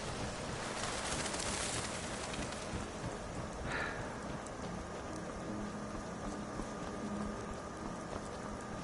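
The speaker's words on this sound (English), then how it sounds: "And of course it's raining, which means it's cold." Steady rain falls in the video game Skyrim, a dense, even hiss that continues throughout. A brief, softer rumble rises midway, and there is no talk.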